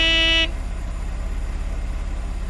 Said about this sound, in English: taxi drivers that will start honking at you the second they pull over to pick you up